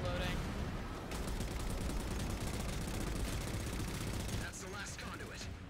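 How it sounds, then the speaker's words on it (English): An overloading gun in Halo 4 Spartan Ops fires in rapid, dense bursts of loud gunfire and explosive crackle that run continuously, then ease slightly near the end, with voices underneath. "Alright, gun's overloading."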